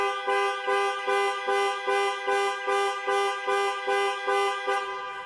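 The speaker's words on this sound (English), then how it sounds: "Press for 3 seconds or press 3 times in 3 seconds, and the horn will sound and the hazard lights will flash." A 2021 Land Rover Discovery's panic alarm sounds its horn in a steady rhythm of loud, repeated honks, about a dozen evenly spaced blasts with no talking.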